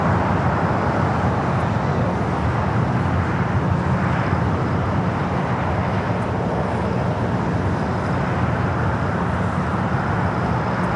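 A jet airplane at LAX, on a flight heading to Portland, a loud, steady broadband engine roar that holds level without a break.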